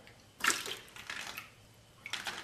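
Water sloshing inside a spray gun paint container as it is rinsed clean, a few close, short splashing bursts separated by quiet pauses.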